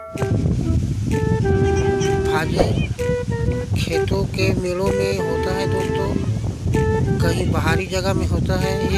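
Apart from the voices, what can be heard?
wind blowing outdoors in a field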